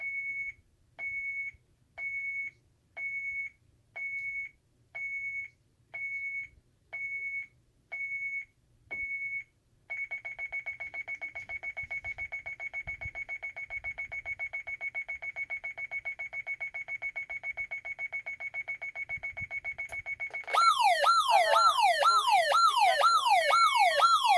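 A Tyco/ADT Safewatch Pro 3000EN alarm system, tripped by a motion sensor, beeps in a steady series of chirps, then switches to a continuous tone before erupting into a loud wailing siren that keeps going.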